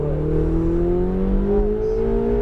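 A Ferrari 488 GTB on a cone-marked driving course accelerates, its engine note climbing steadily in a loud, close, continuous rising hum with no talking.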